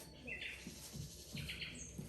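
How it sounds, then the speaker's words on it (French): Blackbirds sing in the evening in southern France, faint, scattered chirps and short whistled phrases heard from a distance against a quiet, soft background. "j'ai jamais entendu des oiseaux chanter le soir"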